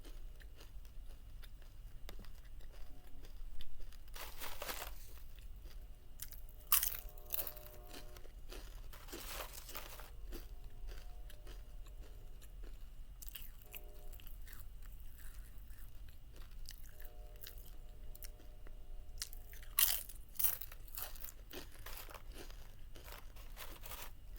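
Grilled chicken tacos being eaten close to the mic, with soft chewing and a few louder crunchy bites spread through a quiet stretch, and no talking.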